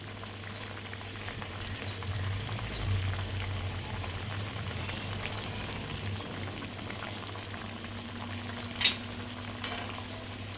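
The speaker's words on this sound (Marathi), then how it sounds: "शिल्लक राहिले ते पण आता तळून घेते मी" Kothimbir vadi, coriander fritters, deep frying in hot oil: a low, steady bubbling hiss with a faint hum beneath and one sharp click near the end, no voices.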